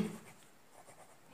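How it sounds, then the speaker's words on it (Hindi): Chalk or marker writing on a board in a classroom, a brief faint scratchy stroke with no voice over it. "यहां पर लिखेंगे"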